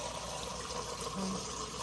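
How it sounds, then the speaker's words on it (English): Water steadily filling through a Brita Glacier Fresh replacement filter cartridge, a continuous soft trickle and wash of liquid close by, with no talk over it. "You can hear the filter like filling up and not shooting water down."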